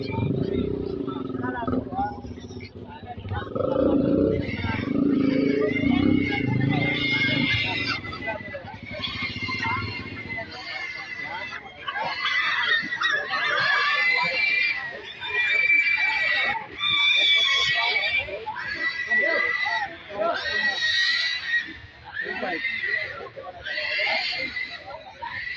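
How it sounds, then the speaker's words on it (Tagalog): A crowd of pigs squeals repeatedly at a pig market, shrill overlapping cries rising in bursts through the latter half, with people talking nearby. "Ito, daming baboy, oh."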